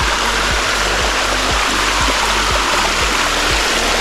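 Heavy water flow down the Bua Tong sticky waterfall near Chiang Mai, a loud, steady, broadband rush of water over rock with low rhythmic thumps, close and continuous throughout.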